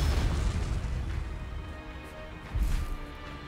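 A Bombarda blasting spell explodes in Hogwarts Legacy with a loud, sustained low rumble and crackling blast, swelling again briefly toward the end.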